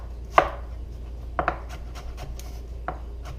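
A knife chops through onions on a cutting board, a few sharp, separate cuts spaced irregularly, close and fairly quiet, with no talking.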